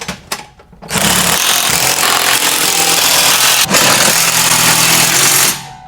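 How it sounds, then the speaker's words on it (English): A power tool runs steadily for several seconds while tightening trailer bolts with a 9/16 socket during base trailer assembly, a loud, continuous whirring grind preceded by a few brief clicks and bursts. "All right, break out the power tools."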